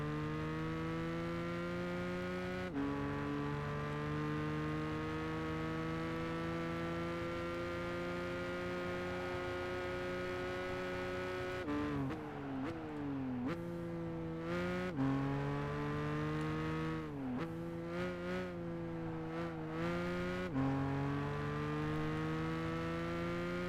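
Race car engine in Gran Turismo 5 during a Japanese Championship race, a steady loud harmonic drone that climbs in pitch, then drops and climbs again repeatedly through gear shifts in the second half, with no talking.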